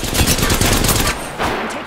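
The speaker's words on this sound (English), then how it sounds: "I'm taking shots." Rapid gunfire in the video game Apex Legends, a loud dense burst of automatic shots that pauses briefly and then resumes, with no talking.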